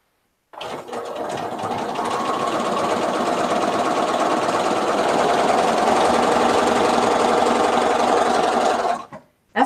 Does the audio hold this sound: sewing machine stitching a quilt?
yes